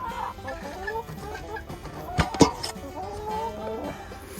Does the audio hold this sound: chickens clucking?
yes